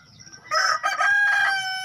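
A single loud rooster crow rings out close by, a long strained cock-a-doodle-doo rising after a brief quiet moment.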